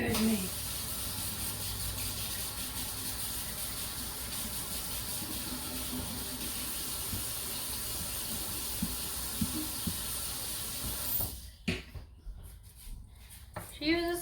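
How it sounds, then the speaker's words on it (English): A kitchen tap runs steadily while a spoon is washed under it, a constant hiss of water that cuts off near the end and is followed by a few light clatters. "Spoon. I'll use this spoon. I'll wash it off."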